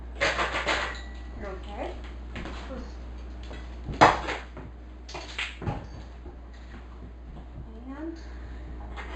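Kitchen utensils clattering while someone rummages for a mincer, with a loud clank of metal near the middle and softer rattles and knocks around it, heard close under intermittent talk.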